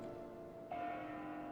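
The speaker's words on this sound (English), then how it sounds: "That bell sound must be coming from somewhere." A bell in the video game Xenoblade Chronicles 2 sounds a single clear, sustained tone that rings out partway through over a soft musical background, fairly faint with no speech.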